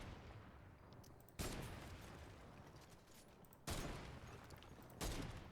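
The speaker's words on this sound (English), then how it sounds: "what I'm gonna do is get my obliterator. Here it is, and we're gonna destroy these walls here" In the Fortnite Save the World game, an obliterator weapon fires at walls. Three loud, heavy blasts go off a couple of seconds apart over a steady bed of game noise.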